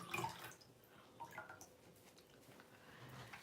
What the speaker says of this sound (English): I have a bowl of water here, so I'm just going to kind of wet my eraser